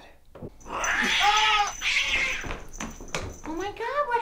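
A cat yowls and caterwauls loudly in drawn-out, wavering cries, with brief sharp bursts and a person's voice mixed in among the calls.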